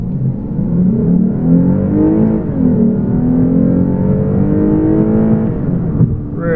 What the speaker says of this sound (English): The engine's really a screamer when you want it to be.